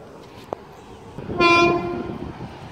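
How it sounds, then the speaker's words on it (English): A train rumbles past with a steady droning horn blast partway through, over continuous rail noise, fairly close and loud. "The train was coming up here"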